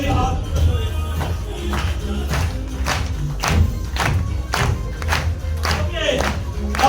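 A church congregation at a midnight Christmas service chanting hallelujah together in rhythmic bursts, loud crowd shouts over clapping and a low musical beat.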